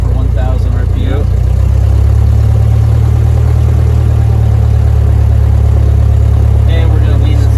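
Small aircraft piston engine idling steadily at about 1,000 RPM just after a cold start on a cold day, a loud continuous low drone throughout with a person talking briefly over it at the start and end.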